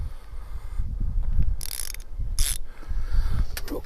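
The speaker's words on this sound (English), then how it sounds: "we'll put the ratchet on there and tighten it down" A ratchet tightens a spark plug on a 2006-2010 Ford Explorer with the 4.0 engine, giving close, bright clicking bursts in short runs over a low mechanical rumble, with no talking.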